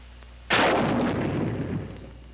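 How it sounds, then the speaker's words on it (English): Bazooka rocket fired close by, one sudden loud whooshing blast that decays over about two seconds, with no talking. "The same team is firing here, but they're properly screened and you can't spot them."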